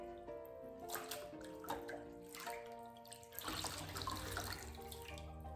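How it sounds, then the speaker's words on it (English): A rag is dipped and swished in a sink of warm water for table cleaning before chalk mineral paint, with continuous close running and sloshing water, tap-like flow and splashes throughout. "I'm gonna dip my rag in this nice warm water here."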